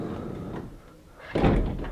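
A door on a 2015 Chevrolet City Express van with a 2.0-liter four-cylinder closes with a single solid thud, heard close after a quiet stretch of low background noise.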